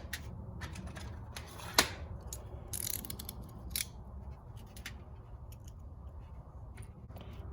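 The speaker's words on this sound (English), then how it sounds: "Just take your time pulling that gasket off." Gasket being slowly peeled off a racing go kart part, close scraping and creaking with short ripping scratches and a sharp snap, uneven bursts over a low background rumble.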